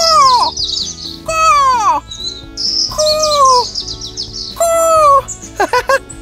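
People imitate bird calls with a run of whistled chirps, trills and sliding tweets in short bursts with brief pauses, loud and close.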